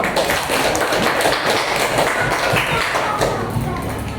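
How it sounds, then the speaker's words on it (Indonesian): A classroom crowd claps steadily for a group of students, a dense, continuous patter of many hands lasting throughout, with voices mixed in underneath. "Tepuk tangan untuk kelompok 1."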